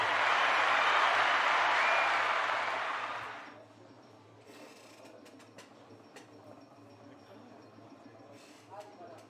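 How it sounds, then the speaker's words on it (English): Audience applause at a pinball tournament playoff, a steady loud burst of clapping for about three seconds that fades out, followed by quieter room noise and machine sounds. "Let's give him a round of applause there."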